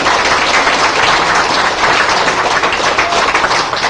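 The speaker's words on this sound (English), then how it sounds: "We owe him a round of applause for that kind of spirit." Loud, dense applause from a large crowd, steady and sustained throughout without a break.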